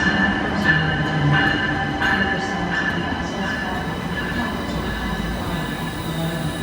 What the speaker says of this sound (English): This turned out to be one of Amtrak's newer Acela train sets